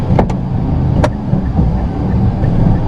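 A car engine pulls away in first gear at low revs, a loud steady rumble from inside the cabin with a few sharp clicks or knocks over it.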